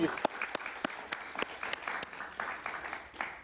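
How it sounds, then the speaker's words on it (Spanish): An audience applauds a guest during a Spanish-language interview, fairly sparse claps with sharp individual hits in a loose rhythm, close and moderately loud throughout. "Un aplauso para Leo, qué bonito."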